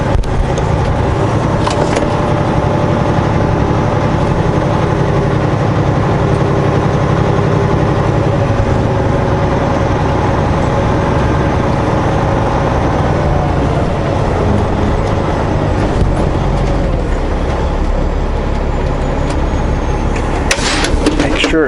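A semi truck's diesel engine rumbles loud and close while the rig pulls forward to line up with a trailer, a steady heavy drone with no pauses.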